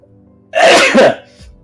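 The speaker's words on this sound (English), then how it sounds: "Hold on, I gotta sneeze." A single loud sneeze bursts out after a brief quiet, close to the listener, with a short breathy tail afterward.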